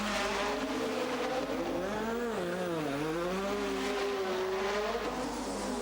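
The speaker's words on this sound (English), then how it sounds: "Prost's McLaren hummed calmly on." 1986 Formula 1 McLaren race cars, their turbocharged engines droning loudly and continuously with pitch rising and falling as they move through corners and gear changes, with no voices.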